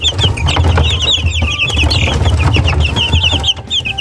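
Three-week-old Silkie chicks peck at chick feed, with loud, dense, continuous high peeping and clucking from a close flock throughout.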